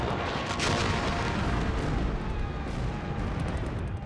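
British 18-pounder field guns shelling advancing German infantry at Mons in 1914, heard as a continuous heavy rumble of booming artillery fire with sharp repeated cracks.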